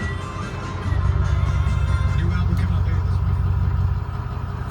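A 2007 Ford F250 diesel pickup engine turns over and settles into a steady idle, its low rumble swelling about a second in and holding loud and close before easing slightly near the end, with no talk over it.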